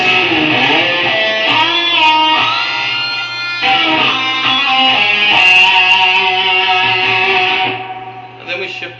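Distorted electric guitar playing a solo phrase, with hammer-ons and sustained bent notes in a loud, continuous line that fades toward the end.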